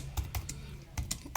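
A few quiet, separate keystrokes on a computer keyboard while a MongoDB query is entered, irregular taps spaced across a short moment with no talk over them.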